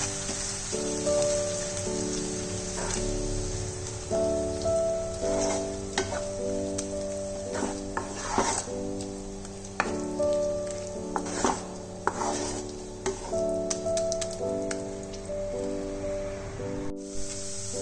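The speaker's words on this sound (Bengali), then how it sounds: "লঙ্কাটা হালকা ফ্রাই হতে হতে আমি এখানে ধনেপাতা বাটাটা পুরো দিয়ে দেব।" Green chili and coriander paste fry in a pan, sizzling steadily with stirring clatter up close while gentle background music plays underneath throughout.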